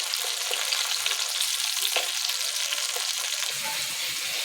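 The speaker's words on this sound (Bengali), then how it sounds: "ভালো করে উল্টি পাল্টে ভেজে নিতে হবে।" Eggplant slices frying in hot oil, a loud, steady close-up sizzle with crackling that runs unbroken throughout.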